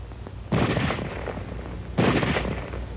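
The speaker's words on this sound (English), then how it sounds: "Now let's look at weapons which have both automatic fire and semi-automatic fire." Two loud, sharp weapon reports about a second and a half apart, each with a short ringing tail, from a 1945-era small arm with selectable automatic and semi-automatic fire.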